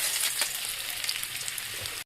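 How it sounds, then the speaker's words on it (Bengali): Chopped ginger and garlic sizzle steadily in hot white oil for a chili mushroom dish, a dense, close crackling hiss with small pops throughout and no talking. "তেল আমাদের গরম হয়ে গেছে, এবার এই তেলের মধ্যে আদা রসুন কুচোটা দিয়ে দেবো।"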